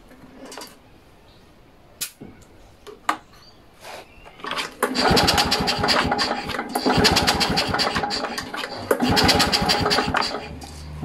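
A Victa 2-stroke engine is cranked during compression testing, with a few sharp pulls and clanks, then a loud rapid buzzing run of cranking strokes that holds for several seconds, close up.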